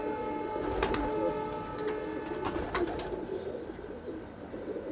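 A prize-winning Pakistani Teddy pigeon coos in soft repeated phrases over a low steady background hum, with a few faint clicks scattered through.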